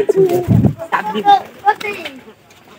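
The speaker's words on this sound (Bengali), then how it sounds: "আবার এই যে উপরের ঘরের একটা কবুতর দেখেন" Pigeons coo inside a loft, a few soft throaty rolling calls close by, mixed with someone talking briefly.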